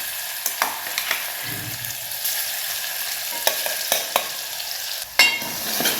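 Garlic and green chillies frying in oil for a Maharashtrian harbhara garagati bhaji, with a steady sizzle and several sharp clinks and scrapes of a ladle stirring in the pan.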